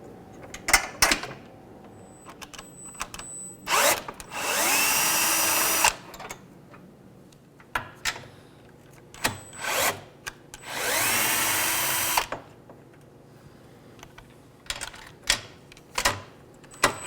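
A power drill removing bolts while installing a Baja Ron sway bar on a 2020-or-later Can-Am Spyder RT, whirring in two longer sustained bursts and several short blips, with clicks and metallic clunks between runs.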